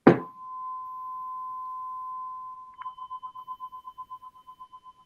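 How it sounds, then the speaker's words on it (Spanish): A tuning fork struck in a university physics class on waves rings with a steady, pure tone that holds for several seconds. It is then touched again and pulses rhythmically as the tone slowly fades. "se escucha el diapasón"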